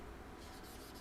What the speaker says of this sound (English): let's write that sentence down.